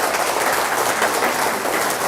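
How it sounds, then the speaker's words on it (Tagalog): Steady, dense applause fills a church gathering, a sustained wash of many clapping hands at close, even loudness throughout with no voices on top. "Palakpakan natin si Lord"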